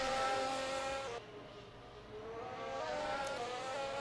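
A race car laps the Monaco circuit in a racing video game, its high engine whine climbing and dropping through gear changes, loud and continuous with no talk.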